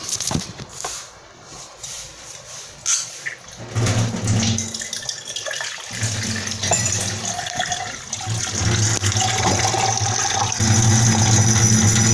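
Tap water runs into a sink in the morning before coffee is made, a steady splashing flow that starts partway through and grows louder and fuller, close by, with no talking.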